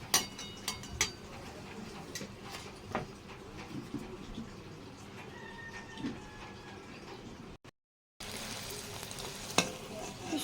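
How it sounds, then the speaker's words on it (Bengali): Chira luchi puffing as it fries in hot mustard oil, a steady close-up sizzle with small crackles and stirring clatter throughout, broken by a brief dropout near the end before the sizzling resumes. "আমি এখন ছেড়ে দেবো আর আমি তো সর্ষের তেল দিয়ে করছি"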